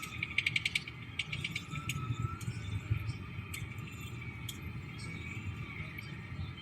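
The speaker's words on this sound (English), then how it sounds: "Now we're going to manually open up the valve." A precision control valve's stem mechanism turns by hand, giving quiet close ratcheting clicks and light metallic ticks in short runs over a low steady hum.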